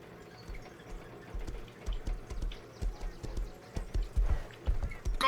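Horse hooves clip-clopping in a video game, a steady run of low thudding footfalls that grows louder and busier toward the end, with faint watery splashing underneath and no talk.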